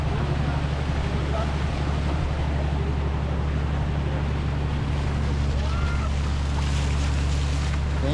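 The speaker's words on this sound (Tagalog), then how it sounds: "Ito yung bangka na isinakay pa sa isang bangka" A small boat loaded onto another boat rides the open water, with a steady low motor drone and continuous wash of waves and wind throughout, no clear voices.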